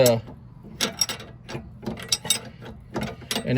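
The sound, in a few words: wrench tightening sway bar link nut on Dodge Caravan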